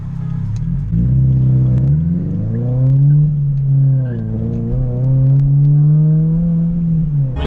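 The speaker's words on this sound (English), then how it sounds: "The only exhaust thing I have done to this car is an axle back, and I don't know if you guys can hear it." Subaru BRZ engine with an axle-back exhaust and the muffler removed, revving in several rising and falling pulls over a low throaty drone, close and fairly loud.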